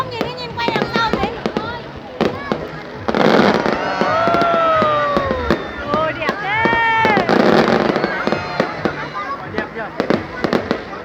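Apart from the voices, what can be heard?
fireworks display bursting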